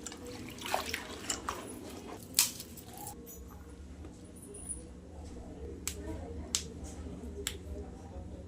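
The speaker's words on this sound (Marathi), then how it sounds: "ह्याला आहे ना धुवून घेऊयात आपण मस्त आता दोन पाण्याने" Fresh coriander leaves are rinsed in water in a home kitchen, giving quiet, sparse splashes and drips with a few sharp clicks against a low background.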